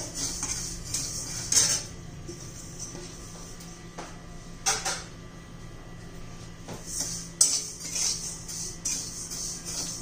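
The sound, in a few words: dry roasting niger seeds in a pan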